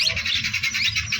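A caged bird at a bird market squawks and chirps loudly and close, in rapid repeated shrill calls over a short span, alone without talk.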